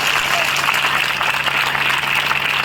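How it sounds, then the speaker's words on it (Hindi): Loud applause fills a church service, a dense steady wash of clapping that runs throughout without a break. "जोरदार तालियों के साथ"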